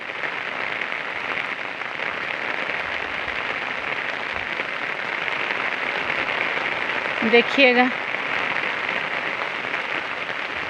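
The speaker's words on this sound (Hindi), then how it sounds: "देखिए इधर बारिश भी बहुत है" Heavy rain falls in Chhingchhip, Mizoram, as a steady, dense hiss that holds evenly throughout, with a brief spoken word and a short clatter near the end.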